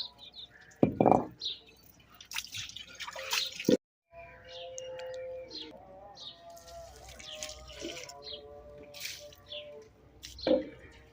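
Rain dripping in a Pakistani Punjabi village, with scattered individual drops landing close by, a few sharper splashes standing out, and faint tonal background sounds between them.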